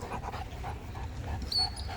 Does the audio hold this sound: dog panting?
yes